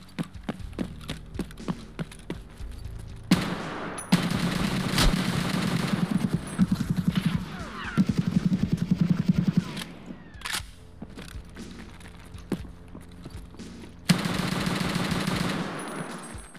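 Bursts of automatic gunfire and single shots ring out in the video game Escape from Tarkov, loud rapid rattling volleys separated by brief lulls, with faint clicks and movement between bursts.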